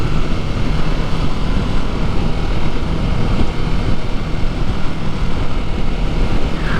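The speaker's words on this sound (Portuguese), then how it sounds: "Eu curto os sons dessas motos bicilíndricas," A twin-cylinder Kawasaki Ninja 650 motorcycle engine droning loudly and steadily while riding, with a continuous rough hum and wind rush and no speech.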